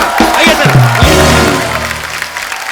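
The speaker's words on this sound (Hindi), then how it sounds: "एक बार रेमो सर, जैकी और टाइगर के लिए जोरदार तालियां।" Studio audience applause on an Indian TV comedy show, a loud dense wash of clapping with talk over it at the start.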